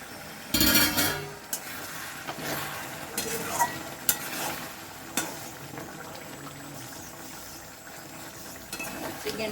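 Chicken in a pot is stirred to keep it from sticking: a spoon scrapes and clinks against the metal over a low sizzle and simmer, with sharp knocks scattered throughout.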